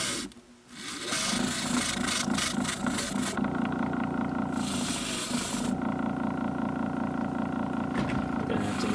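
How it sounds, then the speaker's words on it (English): Steady rasping grinder on a duck skin during taxidermy fleshing, taking off the oil glands; a continuous close abrasive buzz runs nearly the whole time after a brief quieter start. "And your oil glands, grind them off."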